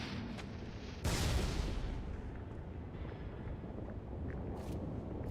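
Brute grenades go off in Halo 3, one sudden loud blast that decays into a long rumbling roar, with faint distant bursts after it.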